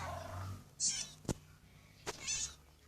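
A cat meows in the Minecraft video game, with two short high mewing calls standing out over faint background sounds and a couple of sharp clicks.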